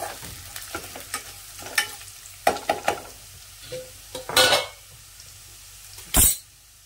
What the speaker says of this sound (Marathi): ही फोडणी ना चांगली अशी परतून घ्यायची आहे यामध्ये